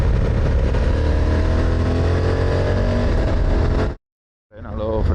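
A motorcycle fitted with a DB Killer exhaust insert roars loudly and steadily close by, cuts out abruptly for half a second, then the engine note swells back up.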